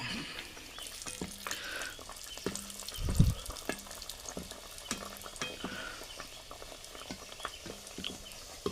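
Sweet kachori frying in hot oil, a steady close sizzle with scattered bubbling pops and a brief louder splash partway through, no talking.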